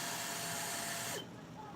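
A Dyson hair dryer blows hair dry with a loud, steady, close whooshing roar that cuts off abruptly partway through, leaving a quieter background hum.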